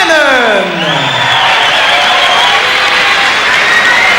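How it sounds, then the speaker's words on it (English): Loud arena crowd at a boxing match between Scott "the Cannon" Bannan and Danny Maksachef applauding and cheering, a dense continuous roar of claps and shouts lasting the whole span. "a rousing applause for Danny Maksachef and the Cannon, Scotty Bannan"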